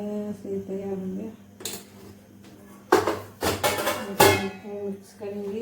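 A spoon mixing food in a dish, with a few clinks early on and then a burst of louder scraping and clattering strokes in the middle, while someone talks over it.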